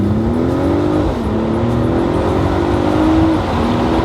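A 2021 Mercedes-Benz E 450 4matic convertible launches hard, its engine note climbing loudly through several gear changes with brief dips between shifts, heard from inside the car.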